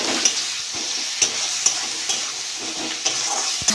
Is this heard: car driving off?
no